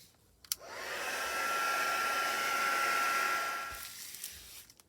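A hair dryer blows on a small paper baggie, a steady close whoosh that starts after a click, holds for about three seconds, then winds down.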